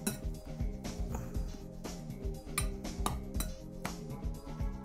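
Seasonings being mixed together in a bowl, with a utensil clinking and scraping against the bowl in quick, irregular taps, close and fairly quiet.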